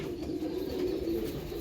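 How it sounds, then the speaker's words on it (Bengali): A pair of young Kalanka pigeons, a home-bred breed, giving soft, low, continuous cooing murmurs close by, with no talk. "দেখুন, এক জোড়া কালাঙ্কা বাচ্চা আপনাদের শখ করাচ্ছি।"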